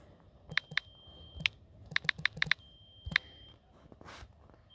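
Bursts of typing on a computer keyboard, a few isolated keystrokes, then a quick cluster and scattered taps, close and clear in an otherwise quiet room.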